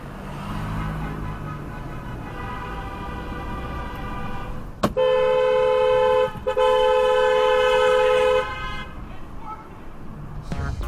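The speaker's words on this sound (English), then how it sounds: "Bumbling butthurt Bailey really hates being honked at." A car horn blares in two long sustained honks, loud and close, over steady road and engine noise.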